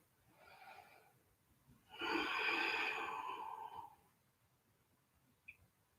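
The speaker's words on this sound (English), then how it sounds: "Big breath in." A deep yoga inhale, a faint short breath first, then one long, loud airy intake lasting about two seconds before quiet.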